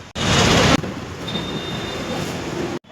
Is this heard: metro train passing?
yes